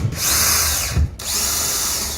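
A power drill whirs steadily while assembling an electric skateboard gear drive, cutting out briefly near the middle before spinning up again, loud and close.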